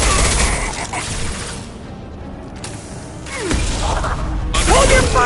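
Gunfire and impacts from combat in Mass Effect 2 Legendary Edition on PS5, a loud sustained barrage with whooshes and mechanical clanks, fading in the middle and then returning with bursts, under a game soundtrack.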